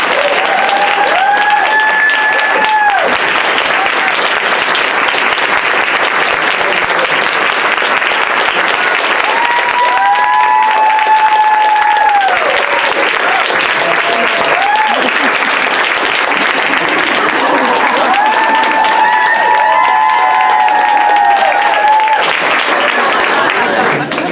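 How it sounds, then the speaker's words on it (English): Large audience applauds a speaker with long, loud, steady clapping, with scattered cheers and voices rising over the ovation at intervals. "Let's give a round of applause for Dr. Willie Parker."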